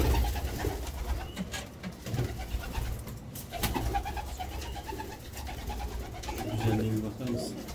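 Budapest Deres Goylak pigeons coo in a loft, soft repeated throaty coos close by over a busy background with occasional rustling, while someone talks intermittently.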